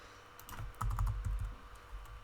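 Keys clatter on a computer keyboard in a quick burst of close typing, a cluster of soft clicks and thumps that trail off into quiet room tone.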